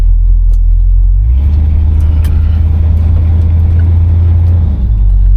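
A 1972 Buick GS on the road, steady loud low engine rumble and road drone that thickens after about a second, running continuously and close.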